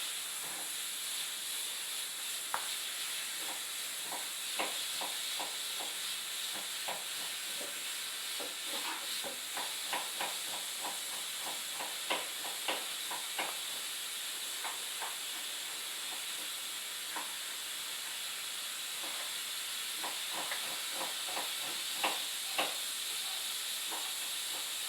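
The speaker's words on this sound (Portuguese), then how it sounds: "Esse barulho ali é da panela de pressão" Continuous high-pitched steam hiss from a pressure cooker cooking beans, with scattered faint clicks and rattles, a steady background noise at moderate distance.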